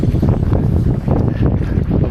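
Strong gusty wind buffets the microphone beside a river during fly fishing, a loud, continuous low rumble that surges and dips throughout.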